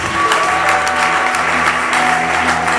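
Congregation clapping together during a French-language church praise service, loud, dense applause filling the whole moment.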